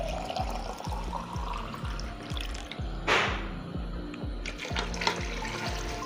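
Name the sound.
water poured into pot of mutton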